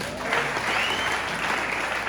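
A church congregation breaks into dense, steady applause during a sermon, loud and close, filling the whole moment without pause.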